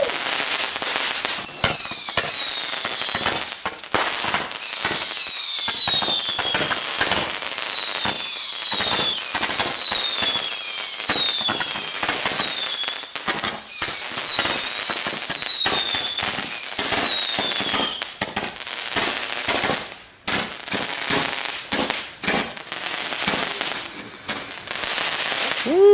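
Fireworks go off repeatedly, a dense run of sharp bangs and crackles with rising whistles, loud and close, while people shout and cheer over them.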